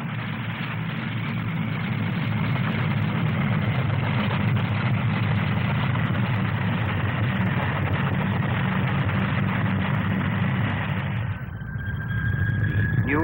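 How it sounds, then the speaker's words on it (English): A big rotor-tip powered airliner hovers at the 1958 Farnborough airshow, giving a steady, loud engine and rotor drone that runs unbroken and shifts slightly near the end. "The power goes on to the rotor tips and the big airliner becomes again a hover plane."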